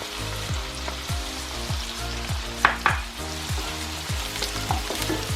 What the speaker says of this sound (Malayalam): ഇതിലേക്ക് നമ്മൾ അരിഞ്ഞു വെച്ച സവാള ഇട്ട് കൊടുക്കുകയാണ്. സവാളയുടെ ഒപ്പം തന്നെ നമ്മൾ പച്ചമുളക് ഇട്ട് കൊടുത്തു.